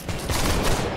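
A cannon fires in a video game: one loud, close, booming burst with a crackling blast that fills the whole short moment, with no talk.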